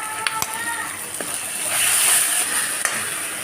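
Ground cumin and spices sizzling in hot oil in a pan for mutton curry, a steady close fry with a few sharp stirring clicks and a swelling hiss midway, no talking.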